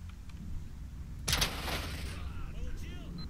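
Gunfire in the video game S.T.A.L.K.E.R.: Shadow of Chernobyl: a sharp burst of shots cracks out midway over a low rumbling background, followed by a few fainter scattered reports.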